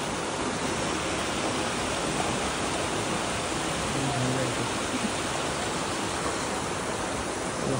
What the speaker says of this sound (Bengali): বাট মেইন ঝর্ণাটা এটাই